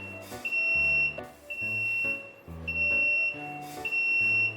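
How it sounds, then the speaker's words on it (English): Loud, repeated electronic beeping from the buzzer of a BD888 three-way catalytic converter cleaning machine: long steady high tones pulse on and off about four times, with lower tonal layers beneath, close and alone. "The buzzer light stops after connection."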